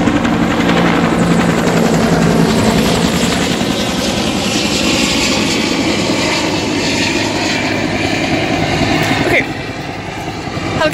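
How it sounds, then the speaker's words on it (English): A helicopter passes overhead near the Kennedy Space Center Visitor Complex, its loud, steady rotor and engine roar filling the whole stretch before easing off slightly near the end. "helicopter's kind of gone, so we can continue with our walking, talking here"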